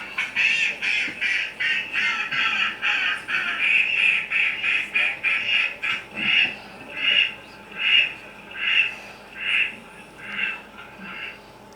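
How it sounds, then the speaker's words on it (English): A mallard duck gives a long run of nasal quacks, steady and repeated at first, then slowing into louder, spaced calls that carry clearly over a quiet background. "the mallard is the only duck that quacks"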